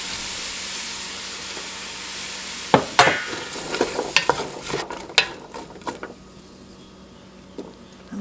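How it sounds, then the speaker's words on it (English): Chopped onions, carrots and celery drop into a pot of melted butter for chicken soup: a steady hiss of heat, then clattering tumbles and a rising sizzle as the vegetables land and are stirred, close and alone. "I'm going to put in the onions and the carrots and the celery."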